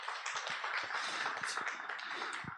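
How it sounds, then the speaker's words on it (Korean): A church audience at a parents' seminar gives a burst of applause to thank the pastor who lectured. Dense, continuous clapping from many hands fills the room at moderate loudness for a couple of seconds. "우리 소개해 주신 강사 목사님께 감사의 박수 한번 올려드리겠습니다."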